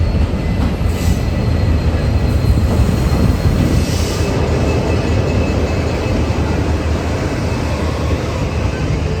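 Steady interior rumble of an old New Zealand passenger train under way, dense low-frequency rolling noise with faint wheel squeal and rail clatter, continuous and fairly loud throughout, no voices.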